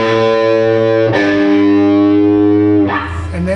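Two distorted electric guitars play a song loud and up close. They sustain thick power chords with a chord change partway through, and a fresh strike comes near the end. No voices are heard.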